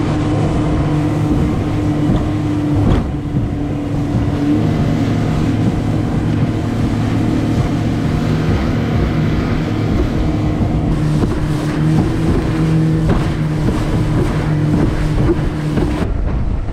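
A motorboat riding back through windy, rough water: a loud, steady engine drone with heavy wind buffeting the microphone and thumps and splashes of waves throughout, no talking.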